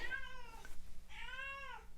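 A house cat meows twice, close and clear, each call a drawn-out rising-falling cry with a short gap between, heard alone in a quiet indoor room.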